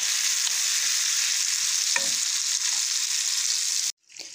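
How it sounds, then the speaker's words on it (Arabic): Eggplant slices frying in oil give a loud, steady close-up sizzle that continues evenly and then cuts off abruptly near the end. "البتنجان معايا بتقلي اهو"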